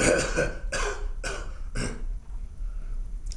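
A woman with whooping cough coughs in four harsh bursts, close by, over the low rumbling hum of a train.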